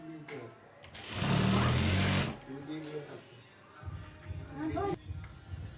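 A sewing machine runs a burst of stitching along a cut fabric strip for a large travel bag, loud and close for about a second, while someone speaks before and after it.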